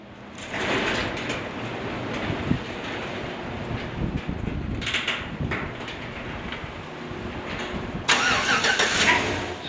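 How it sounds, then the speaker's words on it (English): A truck engine cranks and starts up in arctic cold, with rough mechanical grinding and churning followed by a louder surge near the end. "going out and starting the truck up"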